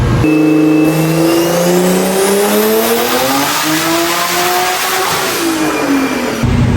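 A tuned Audi with a Haltech ECU screams through a full-throttle run, its engine note climbing steadily and loudly, dipping briefly at a shift, then climbing again before cutting off abruptly.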